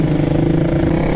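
Motorcycle engine droning at a steady idle-like rumble, loud and close, with no voices.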